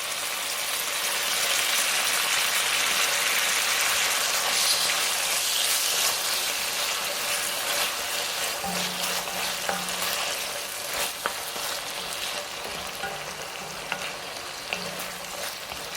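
Tomatoes with garlic ginger paste and coriander cooking down in a pan for a Mauritian lamb curry, a steady close sizzle and bubbling hiss throughout with faint stirring scrapes, no voices.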